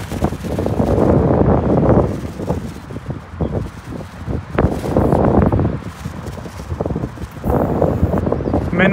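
Strong gusts blow on a beach while kites fly, buffeting the microphone in loud, uneven rushes that swell and fade, with a voice talking faintly at times.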